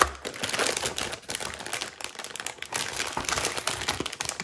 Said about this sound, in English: Let's open the packaging.